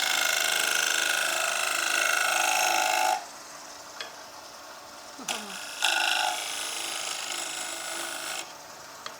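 A pointy negative rake scraper cuts wood on a turning lathe, making a loud, steady rasping hiss for about three seconds. A quieter spinning hum follows, then a second stretch of scraping that gradually eases off.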